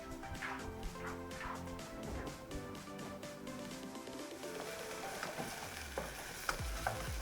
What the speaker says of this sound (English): Once you've sauteed your tomatoes